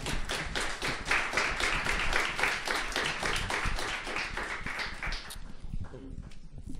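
An audience at an academic talk on digital anthropology applauds, a dense wash of many hands clapping steadily for about five seconds before thinning and fading out.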